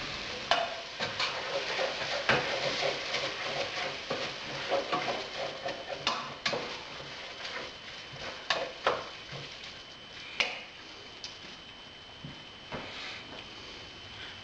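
Red onions cook slowly in a pan for caramelised relish, a soft continuous sizzle broken by intermittent scraping and clattering of a utensil stirring against the pan, with no talking.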